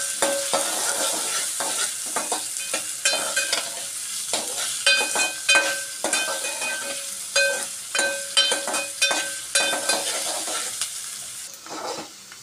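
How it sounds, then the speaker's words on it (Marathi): Finely chopped onion frying in hot oil, a bright continuous sizzle broken by repeated clanking stir strokes of a utensil against the pan, loud and close, with no speech. "तेल गरम झालं की आपल्याला त्याच्यात हा बारीक चिरलेला कांदा घालायचा आहे।"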